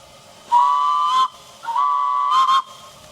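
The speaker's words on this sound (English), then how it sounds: "It has a siren, and it's got a whistle." Two long, shrill whistle blasts from a Foden steam wagon sound close by, each lasting under a second, separated by a brief pause.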